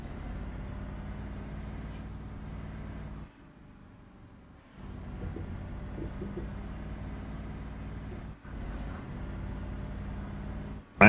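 A Scania truck drives steadily with a low engine drone and road rumble, broken by a couple of brief dips, with a faint high whine above.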